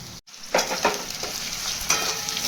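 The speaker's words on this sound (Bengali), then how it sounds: "পেঁয়াজটা ভালোভাবে ভাজা হয়ে গেছে এবার আমি আদা আর কাঁচা লঙ্কাটা দেবো" Chopped onion already fried golden, with ginger and green chili just added to the hot pan, crackles in a steady close sizzle, broken by a few scraping stirs.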